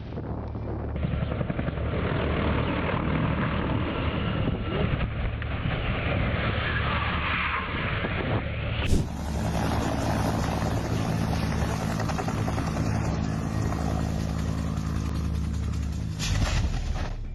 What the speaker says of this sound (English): The helicopter was attempting to take off but lost control suddenly to the left.